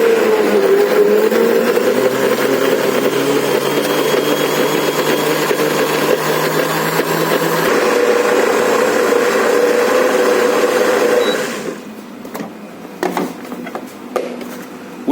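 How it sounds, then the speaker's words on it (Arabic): A blender whirs loudly and steadily for about eleven seconds mixing a vanilla milkshake, then cuts off, leaving quieter clinks and handling sounds. "وهنحطها في الخلاط وهنسيبه يتضرب لمدة 10 ثواني"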